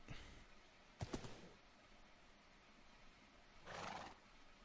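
A horse in the Minecraft video game rears up and neighs: a short whinny near the start, a quick burst of snorts around a second in, and a longer neigh later, all fairly close.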